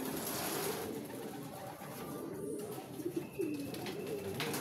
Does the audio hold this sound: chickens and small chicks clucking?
no